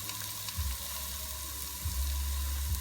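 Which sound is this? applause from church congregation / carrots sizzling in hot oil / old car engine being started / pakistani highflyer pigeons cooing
carrots sizzling in hot oil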